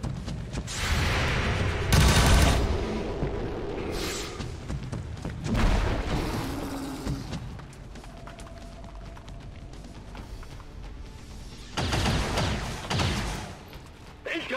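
Gunfire and booming impacts in XCOM 2 combat, several loud bursts of shots and blasts separated by quieter stretches.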